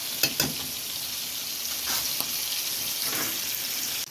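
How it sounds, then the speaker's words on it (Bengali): Masala with turmeric powder sautés in oil for a Bengali fish curry, a steady soft sizzle with a few brief clinks and scrapes of stirring, no talk. "মশলাটা সুন্দর করে কষিয়ে নেব।"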